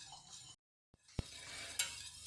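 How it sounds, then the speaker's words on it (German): A spoon stirs horseradish sauce in a pot, soft scraping with a sharp knock and a brief clink, after a short silence, at low level. "So, und jetzt rühre ich das Ganze."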